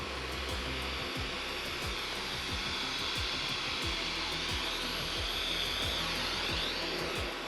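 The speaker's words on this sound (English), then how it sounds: "we're going to see this vacuum cleaner in action now" A Dyson vacuum cleaner running on a carpet produces a steady, loud whirring drone with a high whine, punctuated by rhythmic thumps and scrapes as the head is pushed back and forth.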